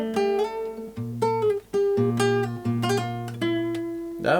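An acoustic guitar is strummed and picked close up, playing chords from a song in a steady, mid-loud rhythm with no voice.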